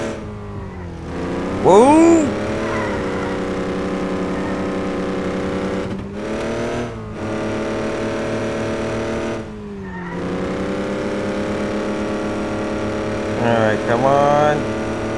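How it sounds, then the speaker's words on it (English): A truck engine drones steadily while driving, with a strong low harmonic hum throughout, two brief dips where the engine note drops off, and a short exclaimed voice near the start and light chatter late. "for today, we have this truck I'm gonna use."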